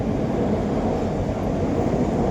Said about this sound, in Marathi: वरती सगळ्या रेल्वे चालू आहे